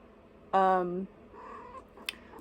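A house cat gives a single loud, close meow, followed by quieter faint sounds.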